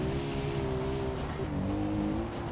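A car in the video game Far Cry 3 drives toward a lake, its engine a steady droning whine that dips and shifts pitch midway, loud and continuous with no talk.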